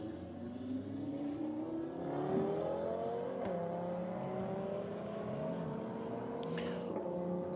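Two cars, an Audi and a VW Golf, accelerate hard side by side in a roll drag race, their engines droning loud and steady with pitch climbing through each gear, a short shift break cutting in near the end.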